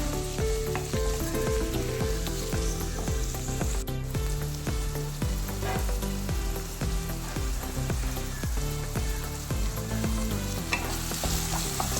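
Chopped tomatoes stirred into a chicken curry in a pan, with a steady sizzle and repeated scraping stirs that run continuously and fairly loud throughout.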